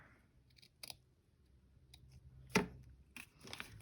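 Scissors snipping through an index card for a craft project: a few quiet, distinct cutting snips with one sharper clip in the middle, heard close against a soft room hum.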